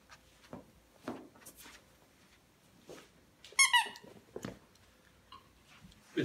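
A blind poodle plays with a squeaky toy, giving a short burst of high squeaks midway through, with scattered thumps and rustles from play around it and no talk.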